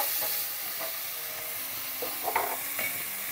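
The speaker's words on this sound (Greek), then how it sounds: "Ανοίγουμε το καπάκι και βάζουμε μέσα το κρεμμύδι" Onion going into a hot multicooker pot, a steady hiss and sizzle with faint scraping and a few soft knocks, close and fairly quiet with no talking.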